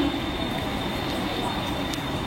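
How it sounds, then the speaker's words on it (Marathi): A fast Mumbai local train rushes through a railway station, producing a loud, steady rumble of wheels and carriages that fills the whole stretch without letup. "एक जलद गाडी जाणार आहे, कोणीही रेल्वे लाईन ओलांडू नका।"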